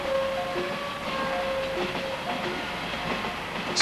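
Train rolling along the rails, a steady mid-level rumble with faint rhythmic clatter and thin squealing tones, no voices.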